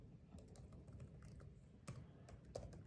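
Typing analogWrite code on a computer keyboard, a quiet run of soft key clicks at an uneven pace, with a few sharper taps standing out over a low background hum.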